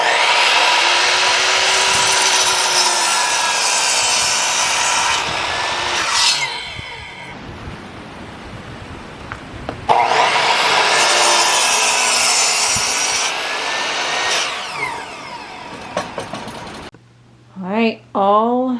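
Wooden posts for a loft railing in a pole barn house being sawn with a power saw, two long loud cutting passes separated by a quieter pause, with a brief voice near the end.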